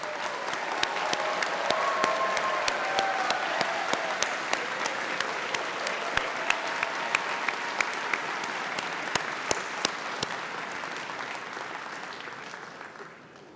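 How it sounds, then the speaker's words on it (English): An audience at a 2022 School of Business graduation hooding ceremony applauds steadily, a broad wash of many hands clapping with sharp individual claps standing out before it tapers off at the end. "please stand so that we can give you a round of applause for everything you have done"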